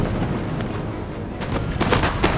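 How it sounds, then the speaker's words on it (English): Scattered musket shots from skirmishers in a Napoleon: Total War battle crack over a dense rumbling backdrop, with a quick cluster of louder reports near the end. "Skirmishers begin to engage one another now in early combat, picking targets and firing at will."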